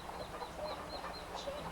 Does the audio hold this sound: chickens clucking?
yes